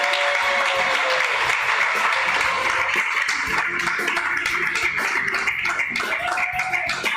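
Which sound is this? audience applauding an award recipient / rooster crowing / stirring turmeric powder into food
audience applauding an award recipient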